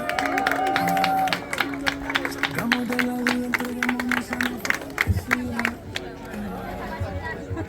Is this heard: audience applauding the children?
yes